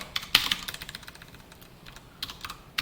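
Code being typed on a computer keyboard during an HTML and CSS lesson; quick irregular clicking keystrokes in bursts with short pauses, close and fairly quiet, no talking.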